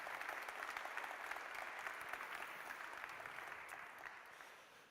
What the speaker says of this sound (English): So just a round of applause,